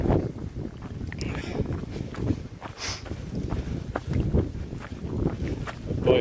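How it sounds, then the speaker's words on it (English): Gusty wind buffets the microphone high on Mont-aux-Sources, an uneven rushing roar mixed with footsteps and the rustle of a runner on the trail. "Boy, is it windy right now."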